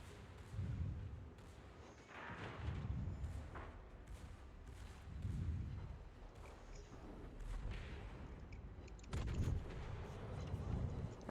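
Ship guns firing in the naval battle game World of Warships, heavy booming salvos repeating every couple of seconds at moderate distance over a constant low rumble.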